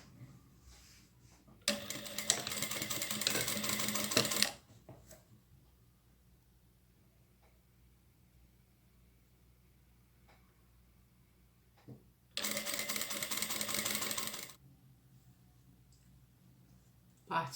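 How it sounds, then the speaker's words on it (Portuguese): A sewing machine stitches a 1 cm seam through batting in two short loud bursts of rapid whirring, with quiet pauses and faint clicks between them. "faço a costura de 1 centímetro"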